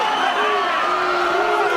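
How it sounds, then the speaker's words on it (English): Spectators at an extreme fighting event roar and jeer in a dense, steady wall of crowd noise, loud and continuous with no single voice standing out. "The crowd does not like that."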